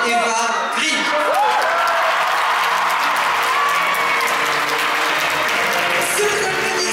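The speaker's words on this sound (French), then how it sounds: "Sous applaudissements, Eva Green." Applause from an audience greeting Eva Green at a Dumbo film premiere, a sustained dense clapping that fills the space, with a voice speaking over it near the start.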